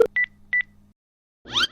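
Two short, clean phone keypad DTMF beeps pressed in quick succession over a faint low hum, followed after a pause by a brief warbling electronic tone.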